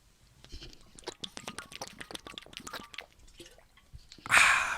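Someone drinks Chicago tap water from an insulated Eco Vessel Trimax bottle in a quick run of close, wet gulps and swallows, followed by a brief loud hiss or clatter at the end.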